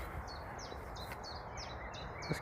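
Chiffchaff and blackcap song at a Yorkshire country park wetland: a string of short, evenly spaced high chirping notes repeats against a soft outdoor background hiss.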